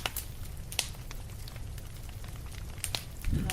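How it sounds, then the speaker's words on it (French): A fireplace fire crackles up close, with scattered sharp pops and snaps over a steady soft hiss and a low rumble toward the end. "le feu de cheminée"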